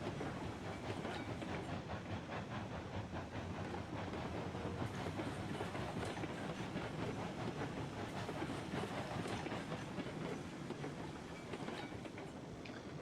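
A 12-car coal train runs along its line in the railroad video game Railroads Online, a continuous rumbling roll with rhythmic wheel clatter and a light hiss, steady and fairly close throughout, with no voices.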